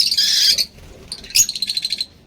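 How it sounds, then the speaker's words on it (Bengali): Two pet rosy-group birds chirp and squawk up close: a harsh burst of squawking, a brief pause, then a run of quick, sharp chirps. "দুটো রোজি গ্রুপের পাখি আছে আমার হাতে"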